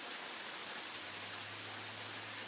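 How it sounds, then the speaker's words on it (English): Steady rain falls in a residential neighborhood while the sun is out, a soft continuous hiss of drops with a faint low hum underneath, quiet and even throughout with no talking. "have you ever seen rain during the time when the sun is out?"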